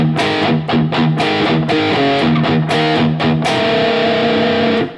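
Heavily distorted electric guitar plays a riff, chugging palm-muted chords in a tight repeating rhythm, then a sustained ringing chord at the end; loud and close, alone with no voices.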